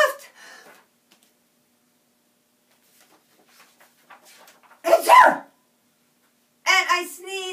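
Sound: voice imitating a big sneeze

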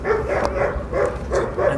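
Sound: dogs barking in Valencia

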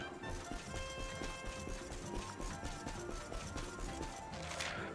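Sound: horse riding in video game Dragon Quest XI

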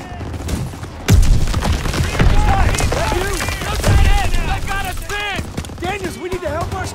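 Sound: gunfire in a video game

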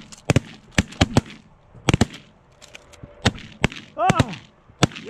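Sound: double barrel 10 gauge shotgun shot at goose

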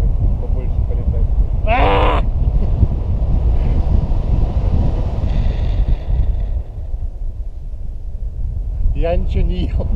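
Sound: strong wind

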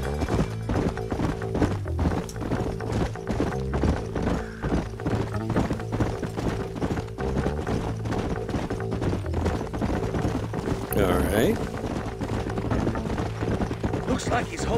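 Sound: horses riding, from video game Red Dead Redemption

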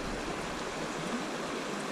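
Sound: river rapids flowing

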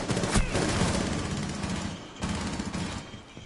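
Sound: weapon gunfire in the video game Rainbow Six Siege

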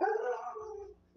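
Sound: dogs howling and whimpering

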